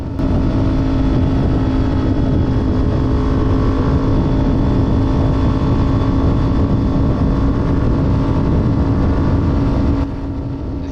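Kawasaki Ninja 400 motorcycle exhaust revving high while riding, a loud steady engine drone with a strong sustained tone and constant road and wind roar, easing slightly near the end.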